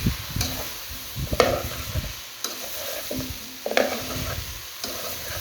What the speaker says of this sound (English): I just want to fry it up a little more, let it some season stick onto the pigtail